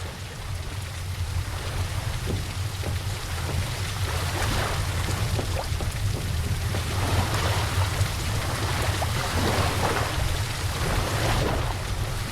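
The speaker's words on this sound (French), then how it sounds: "Il pleut." Steady rain falls in The Lightkeeper video game, a dense, continuous hiss of drops pattering on surfaces over a low rumbling bed, with no voices.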